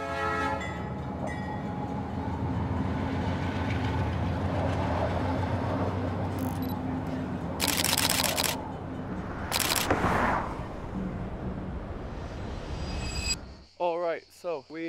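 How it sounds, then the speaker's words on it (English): A short train rolls past outdoors with a steady rumbling clatter of wheels and cars, broken by two loud horn blasts, then fades as a burst of wind noise ends the sound. "That's a short train."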